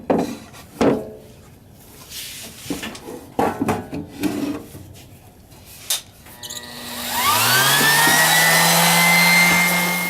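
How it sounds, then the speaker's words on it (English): An orbital sander works hardened wood filler on a tray in a shop: scattered knocks and handling noises come first, then the sander whirs up to speed and runs steadily, loud and close, until the end. "our little wood filler is hardened up, so let's get after it with the sander a little bit."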